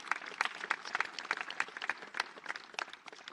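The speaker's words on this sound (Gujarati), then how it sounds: "એટલે પહેલાથી જ ખૂબ તાળીઓ" An audience applauds, a dense crowd of hands clapping steadily and fairly close throughout, without any speech.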